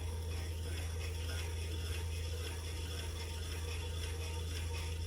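A hand-cranked piston ring filer grinds the gap on a ring for a 2000 hp LS engine build, giving a steady, close mechanical ratcheting whir that runs on without pause and without talk.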